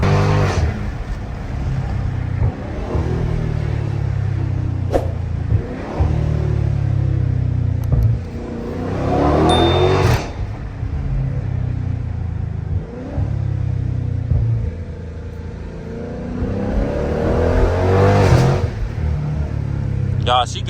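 Dodge widebody Scat Pack in sport mode cruising through city streets, a loud low engine rumble swelling in repeated revving pulls, with a voice talking over it.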